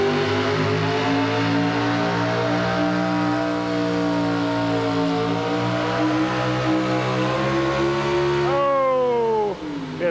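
A pickup truck pulls a sled at a 1984 National Farm Machinery Show truck and tractor pull, its engine holding a loud, sustained, rising roar before it suddenly drops off near the end.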